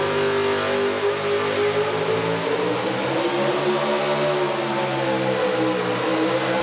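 A 6,000-pound super stock four-wheel-drive truck, a 1988 Chevy S10, pulls at full throttle on a sandy track, its engine a loud, continuous, heavy roar held steady and close with no talk.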